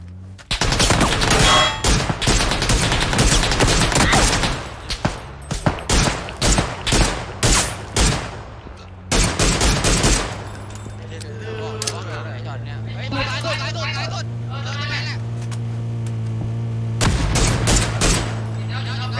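Rapid bursts of loud video game gunfire crackle and pop in dense volleys, then thin out into scattered shots over a steady electronic hum, with voices talking underneath.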